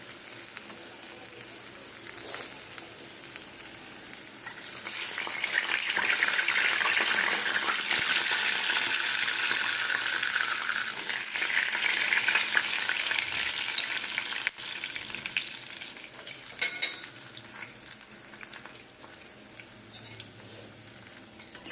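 Sweet potato pantua frying in hot oil, giving a loud, continuous close sizzle that swells in the middle and eases toward the end, with a few faint clinks and no speech.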